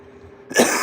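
A person coughs once close by on an electric moped, a sharp loud burst breaking a quiet low hum.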